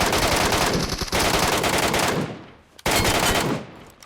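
Automatic gunfire from the PUBG Metro Royale video game rattles in dense, loud bursts, a sustained volley that cuts off briefly and then resumes before tapering away.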